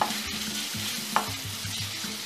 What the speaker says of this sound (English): And I'm going to fry this in my wok.